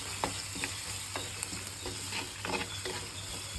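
Garlic and curry leaves fry in ghee for a garlic dal, giving a soft, steady sizzle with light crackles and pops, faint and close, with no talking.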